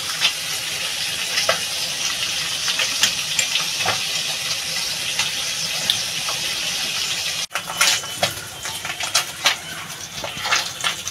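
Fish frying in a pan, fried until crisp, giving a steady, close sizzle with scattered pops and crackles throughout, a brief dip midway, then continuing with sharper spatters.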